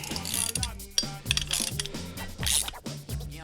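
Ratchet wrench with a 19 mm socket tightening a bolt, a close series of quick clicking strokes in short bursts, repeated several times with brief pauses.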